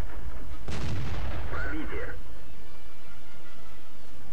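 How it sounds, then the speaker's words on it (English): A single heavy tank cannon shot booms in a tank video game, one sharp loud blast with a rumbling tail that fades over a couple of seconds. "Put a nice shot in there."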